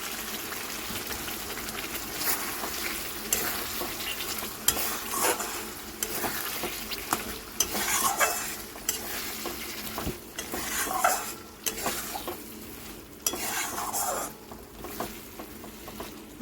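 Potatoes being fried and stirred in masala for dhokar dalna, a continuous close sizzle with repeated scraping and clinks of a spoon against the pan over about sixteen seconds, no voices.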